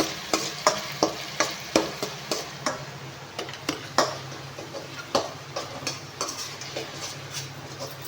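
Fish frying in a pan for a tangy fish curry: a continuous sizzle punctuated by a regular series of sharp spatula taps and scrapes against the pan, close and fairly loud, with no talking.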